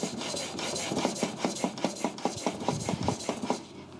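A handplane blade rubbed back and forth on a sharpening stone to remove the burr left by the previous grit, a steady run of about a dozen quick rasping strokes, close and moderately loud, with no talking.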